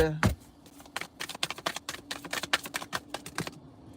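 Cards are shuffled in a quick flurry of crisp, rapid riffling snaps, close and fairly loud for a few seconds.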